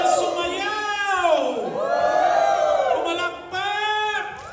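Church congregation shouting together in a loud, sustained roar of many voices, with rising and falling cries swelling and briefly dipping before surging again.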